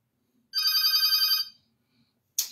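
A telephone rings indoors with a single bright electronic trill lasting about a second, then silence, then the start of a second ring.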